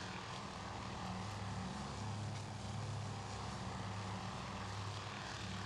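Wildcat fighter aircraft engines drone in a continuous, fairly distant hum in the naval war game Task Force Admiral, steady and unbroken with no voices.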